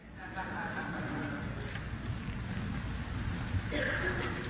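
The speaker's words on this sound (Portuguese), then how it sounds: "Começou a chover, ninguém vai mais para lugar nenhum agora." Rain beginning to fall outdoors, a steady broad hiss of drops on surfaces heard at moderate distance, faint overall with brief louder patches.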